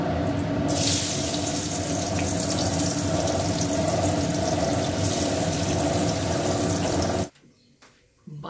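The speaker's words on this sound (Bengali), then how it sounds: "দেখতেই পাচ্ছ মধুমন্তী বাসন মচ্ছে" A kitchen tap runs hard into a sink while dishes are washed, a loud steady rush of water for about seven seconds before it cuts off abruptly to near silence.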